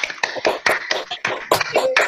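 Small workshop audience gives scattered, uneven applause after a solo Border Dance performance, a handful of close, separate hand claps in a quick irregular patter.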